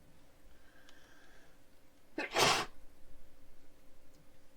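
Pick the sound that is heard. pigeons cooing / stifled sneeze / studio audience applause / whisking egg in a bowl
stifled sneeze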